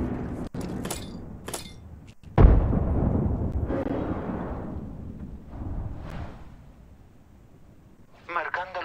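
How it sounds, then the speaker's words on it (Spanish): A thermite grenade blasts in a video game, a heavy boom with a long rumbling tail, preceded by sharp clicks and followed by more game noise and radio-style voices. "Lanzando granada de termita."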